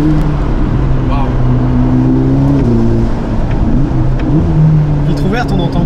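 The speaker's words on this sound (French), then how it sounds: "Vitre ouverte, on entend encore plus le turbo, le souffle du turbo." Loud engine drone from inside a Ferrari Roma with a window open, a rising whooshing turbo note, a voice speaking briefly over it.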